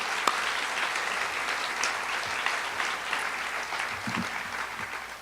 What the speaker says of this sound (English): let's offer another round of applause to Graham and Quaver